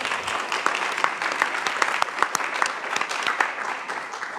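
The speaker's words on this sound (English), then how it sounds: "if everybody in here could give them a round of applause" A conference audience at an international young leaders event claps steadily, a full, even wash of many hands applauding with no speech over it.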